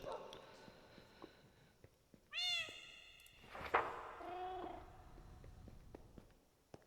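A cat meows in a Pokémon-style video game on Moon Isle (the Grove): two clear, close meows a second apart over quiet game ambience, the second one longer and falling.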